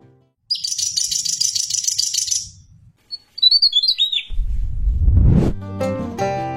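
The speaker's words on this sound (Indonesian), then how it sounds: "Jenis keenam adalah Tesia Jawa, burung kecil yang sering dipelihara untuk burung masteran" A Javan tesia, a small insect-eating songbird endemic to Java, gives a dry, rapid rattling trill followed by brief high chirps, then a low rumble and a rising tonal sweep close to the microphone.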